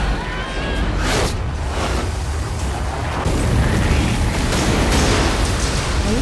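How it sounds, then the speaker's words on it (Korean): A time machine explodes in a video game, releasing a loud, sustained roaring blast with broad rumbling noise that holds steady for several seconds without a break. "이윽고 타임머신이 폭발하고 주변에 있던 멀록들은 시간폭탄에 피폭되어 뼈다구가 되어버립니다."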